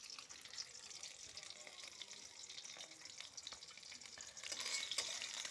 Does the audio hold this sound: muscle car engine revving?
no